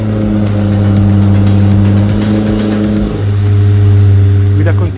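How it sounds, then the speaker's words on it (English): A Lamborghini Temerario's 920 hp V8 holds a loud, steady drone with strong low harmonics, shifting pitch partway through and rising toward the end, close and continuous. "With Temerario, we are inaugurating a new experience in terms of engine sound."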